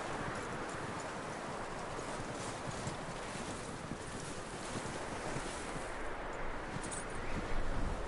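Horse hooves clip-clop in Red Dead Redemption 2, a continuous rhythmic patter under a heavy blanket of wind and ambient noise, fairly faint and steady throughout.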